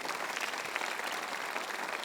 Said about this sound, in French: voulez-vous applaudir avec moi?